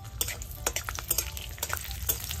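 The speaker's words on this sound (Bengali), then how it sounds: "এবার গোটা রসুন নিয়েছি, এই ঝালের সাথে ভেজে নেব।" Whole garlic cloves frying with dried chillies in hot oil, a steady close crackle and sizzle with scattered sharp pops over a low background rumble.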